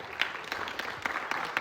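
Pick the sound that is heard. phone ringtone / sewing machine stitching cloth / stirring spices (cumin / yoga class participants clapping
yoga class participants clapping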